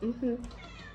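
A house cat gives a short, close meow in two quick rising notes, and a voice is heard faintly underneath.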